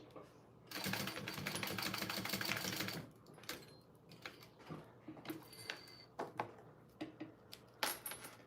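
Sewing machine basting pieces onto a bag, a fast steady whirring run of about two seconds, followed by scattered clicks and handling sounds nearby, with faint talk around it.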